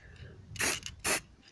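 Two short hissing bursts of spray paint hit a Star Wars DH-17 blaster prop, close and distinct with a brief pause between them, over quiet background.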